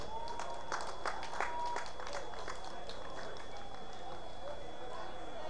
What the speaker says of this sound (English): And I just want everybody to give them a round of applause.